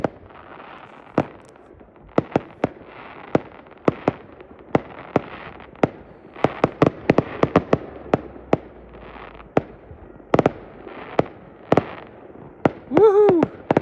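New Year's Eve fireworks going off near a house, a long irregular string of sharp cracks and pops, some in quick clusters, loud and close over a faint background with a brief crackle near the end.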